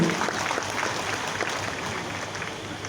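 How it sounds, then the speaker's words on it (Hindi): Outdoor crowd applause at a political rally in Dumka, a steady, moderately distant clatter of many hands on a police parade ground, rolling evenly for the whole stretch without pause. "आपके विचारों हेतु सम्मान स्वरूप एक बार जोरदार तालियां होनी चाहिए आप सबकी तरफ से"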